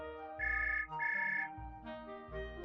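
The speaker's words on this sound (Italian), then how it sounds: "che ti suona al telefono" A telephone rings in two bursts of repeated electronic trills, clear and close, alone without talk, with a steady hum beneath.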